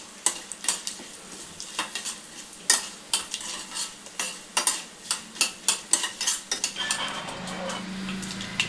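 Ingredients for a ginger chutney fry in oil while a spoon scrapes and taps the pan in quick, repeated strokes over a soft sizzle, close by, easing toward the end.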